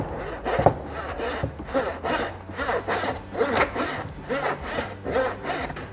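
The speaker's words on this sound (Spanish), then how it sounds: "cuando el serrucho va hacia adelante es cuando corta, cuando va hacia detrás es cuando expulsa el serrín que se acumula" Handsaw cutting through a wooden board with steady back-and-forth strokes, each forward push rasping loudly and close, in an even rhythm about twice per second with no voices.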